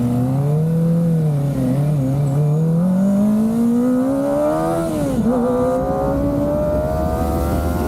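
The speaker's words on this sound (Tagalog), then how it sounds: "Pakinggan nyo lang muna ang tunog ng ZX kung gaano ka-solid." A 2023 Kawasaki Ninja ZX-25R 250cc inline-four motorcycle with a slip-on exhaust revs loud and close, its high smooth wail climbing steadily, dipping briefly, then rising again with no talk.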